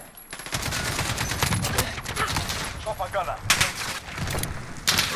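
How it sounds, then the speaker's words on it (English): An RPK light machine gun fires from the prone position in Call of Duty Modern Warfare, sending loud, dense bursts of automatic gunfire with sharp shot transients and echoing tails. "Try and lay down some prone fire."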